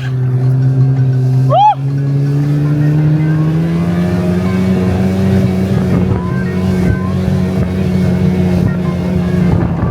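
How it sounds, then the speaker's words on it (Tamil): Vehicles racing past on a road in Kashmir, a loud steady engine drone with a rising whine, close and continuous, with a brief sharp horn-like chirp near the start. "எதுக்குடா ஓட்டுறாங்க ஃபுல்லா ரேஸ் டிரைவிங்கடா"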